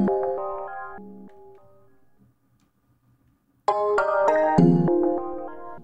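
Stock piano chime-bell preset shaped by a Cableguys ShaperBox downbeat effect: bright bell-like chords pulse and fade to near silence, then a new phrase re-enters strongly and continues in a rhythmic, gated pattern.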